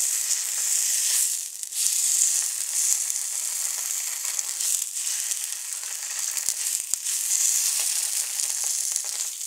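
Food fries in a non-stick pan with no oil, making a steady close hissing sizzle that swells and eases slightly, with a few faint clicks and no speech.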